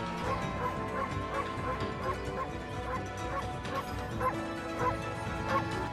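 Wolf barking in the Okami video game: a series of short, bright yips and barks repeats over a busy, continuous game soundtrack, close and fairly loud throughout.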